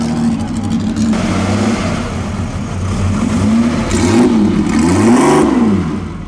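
A 1956 Ferrari with Weber carburetors revs up and down in rising, falling swells, loud and close, with a faint voice underneath.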